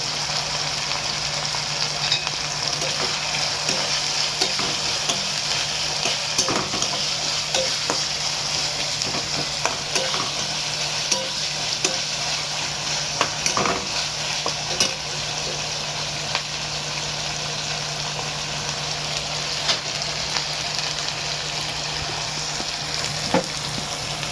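Goat liver dry masala frying in a pan with tomatoes being added, giving a steady, loud sizzle with stirring scrapes that runs continuously without any talk.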